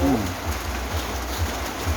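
Steady rain falling on a cold, wet day outdoors, a constant broadband hiss with low rumble underneath, close and even throughout, no speech.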